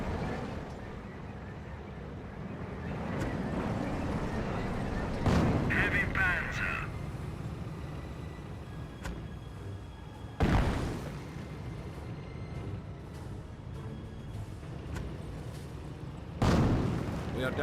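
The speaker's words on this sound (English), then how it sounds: "More half-track firing away." Half-track gunfire and booming battle sounds in a Company of Heroes match, with three louder distant blasts spaced across a steady rumble of combat, while a commentator talks throughout.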